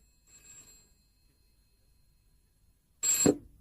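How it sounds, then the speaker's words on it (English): Two bursts of an old-fashioned telephone bell: a faint brief ring, then after a pause of silence a louder, closer jangling ring that stops abruptly. "The telephone rang and made him jump."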